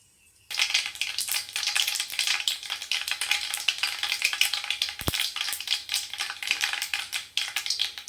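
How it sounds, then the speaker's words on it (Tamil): Mustard seeds and urad dal crackle in hot oil for tempering, a dense rapid popping and spluttering that starts abruptly and continues close and steady, with one sharp knock partway through. "இதை நம்ம இப்போ தாளிச்சிக்கலாம். எண்ணெய் சேர்த்துக்கலாம். கடுகு, உளுத்தம் பருப்பு சேர்த்துக்கலாம்."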